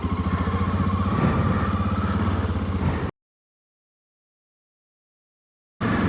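A motorcycle idles at a stop on a snowy Minnesota road, a steady close rumbling engine for about three seconds, then silence before it resumes at the end.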